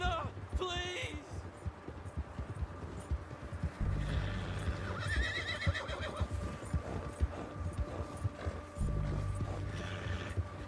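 Horse neighing and galloping hooves clip-clop steadily in Red Dead Redemption 2, with a shrill whinny near the start, heavy pounding hoofbeats throughout, and game voices talking over it.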